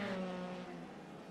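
Formula 3 race car engines from a racing video game hold a steady high-pitched roar at high revs, a continuous droning whine that fades slightly toward the end, with no talk.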